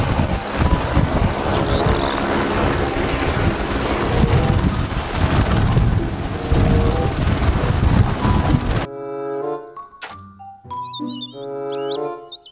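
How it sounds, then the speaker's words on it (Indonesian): A toy helicopter gives a loud, steady whirring rotor and engine sound for several seconds, then cuts to a bright electronic chime melody. No one talks. "Helikopter."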